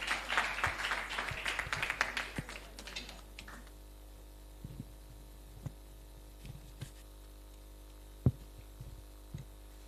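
An audience claps for a certificate recipient at a pitch competition; a dense burst of applause fades within about three seconds, leaving scattered faint claps over a steady mains hum.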